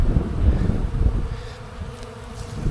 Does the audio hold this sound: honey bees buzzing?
yes